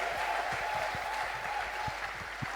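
A church congregation applauds at a Sunday service, a steady wash of clapping held at moderate level throughout, with a few sharper individual claps standing out.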